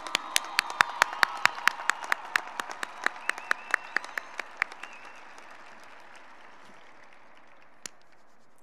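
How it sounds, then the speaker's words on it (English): High school graduation audience applauding the valedictorian: a dense burst of clapping that starts strong and slowly thins over several seconds into scattered claps before fading out. "And can we just take a moment to give a huge round of applause to our valedictorian, Bridget Smith, ladies and gentlemen."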